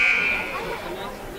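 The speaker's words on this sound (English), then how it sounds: "it looks like we're having buzzer issues" A basketball game buzzer in a high school gym blares loud and steady for about half a second, then gives way to crowd chatter and an announcer's voice.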